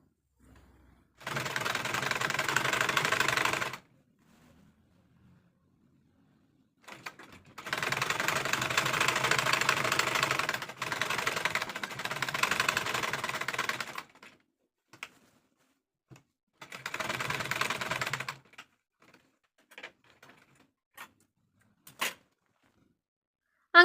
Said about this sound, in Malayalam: ഇങ്ങനെ വെച്ചിട്ട് നമുക്ക് ഒരറ്റം മുതൽ മറ്റേ അറ്റം വരെ സ്റ്റിച്ച് ചെയ്ത് കൊടുക്കാം